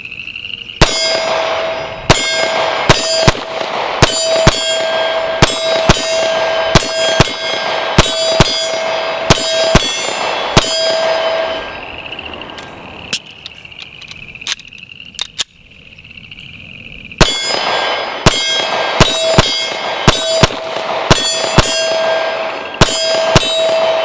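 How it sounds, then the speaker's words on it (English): Rapid pistol rounds from a Canik TP9SF Elite ring off steel targets, a long string of sharp clangs with bright metallic ringing, pausing briefly midway before another fast volley. "let's get some more rounds on target"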